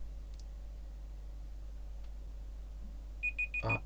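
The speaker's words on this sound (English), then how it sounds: "there's the timer" A timer alarm goes off near the end as a short run of rapid, evenly spaced electronic beeps, clear but fairly quiet against a faint background hum.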